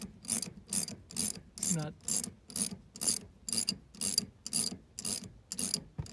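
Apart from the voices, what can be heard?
wrench tightening rear shock nut on Toyota Sienna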